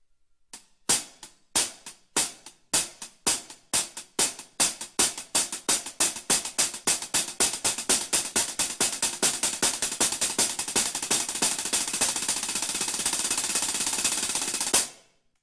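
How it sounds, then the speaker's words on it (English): Double stroke roll on a drum with each second stroke accented, starting with slow separated pairs and gradually speeding up into a dense, even buzz, played alone and close. "I always accent the second stroke. I find that especially important when I play double stroke rolls"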